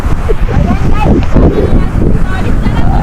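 Strong wind buffets the microphone with a loud, continuous low rumble, while a person talks underneath, partly drowned out by the gusts.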